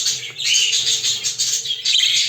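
Budgerigars in a breeding cage, including a blue jumbo spangle male and chicks, give a dense, continuous stream of close, bright chirps and twitters that pause briefly a couple of times.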